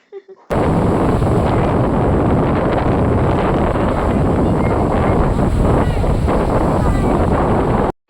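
Strong wind buffeting the microphone on a beach at Puri, a loud, steady roar that starts abruptly after a brief pause and holds constant to the end, with surf rumbling beneath.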